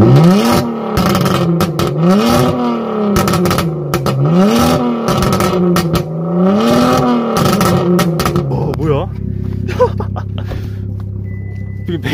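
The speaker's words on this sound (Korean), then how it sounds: "배기음 들을 수 있을까요?" A semi-tuned car with a full straight-pipe variable exhaust and popcorn tune revs repeatedly in rising and falling surges, loud and close, then settles into a deep, steady idle rumble.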